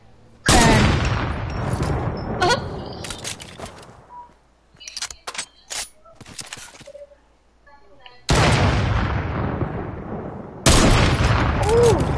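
Loud gunfire bursts from a video game with a sharp crack at the start, then scattered shots and clicks, and more heavy booms later; a voice talks at times.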